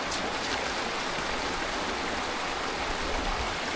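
Rushing stream water flowing steadily at a vegetable garden, a continuous broad hiss that stays even and fairly close throughout with no voices.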